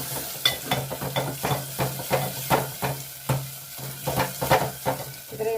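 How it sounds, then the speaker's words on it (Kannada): Ground paste of boiled greens fries in oil for sambar, heard as a steady sizzle broken by repeated scraping stirs of a spoon against the pan, close and fairly loud. "ಅದು ಎಣ್ಣೆಲಿ ಸ್ವಲ್ಪ ಫ್ರೈ ಮಾಡ್ಕೊಳ್ಳೋಣ."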